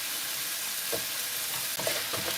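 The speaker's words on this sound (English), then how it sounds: "We're going to soften these onions, we're not going to cook them until they've gone brown" Onions, carrots and apple chunks fry in a pan for a vegetable stir fry, with a continuous close sizzle and a few brief stirring scrapes.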